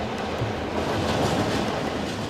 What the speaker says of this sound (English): The train entered the yard on the lower line and then reversed up the upper line, manoeuvring round the corner.